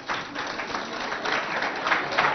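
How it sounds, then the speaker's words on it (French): An audience claps for school representatives at a student event in Biltine, Chad. The applause is dense and continuous, building slightly in intensity toward the end, with no distinct voices over it. "Applaudissez pour vos représentants."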